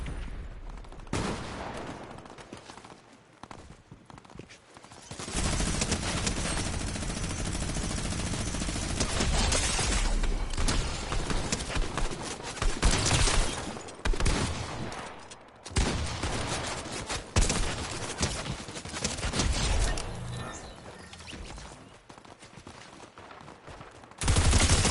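Sustained gunfire in the video game Vibe Quest: dense, loud volleys of rapid shots and bursts continuing almost without pause, with brief gaps between barrages.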